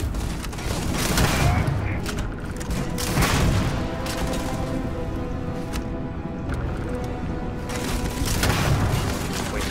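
Rapid gunfire from a weapon in the video game Starfield, a dense continuous barrage of booming shots with rumbling low-end swells, loud and sustained over several seconds.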